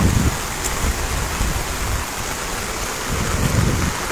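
Heavy rain pouring near Salal Dam on the Chenab River, a steady broadband hiss of downpour with low rumbling water beneath, loud and continuous throughout with no voices.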